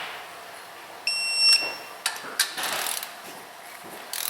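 A wrench turns cylinder head bolts on a Honda Ridgeline, giving a brief high metallic squeal followed by a few short clicking and ratcheting bursts, close and fairly quiet.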